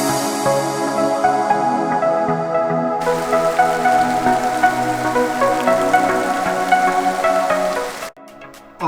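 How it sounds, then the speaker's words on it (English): Heavy rain falling in the Okavango bush during a camping trip with rooftop tents, a loud, dense, steady patter that continues without a break and cuts off abruptly near the end. "It's raining. The one thing we didn't want was rain."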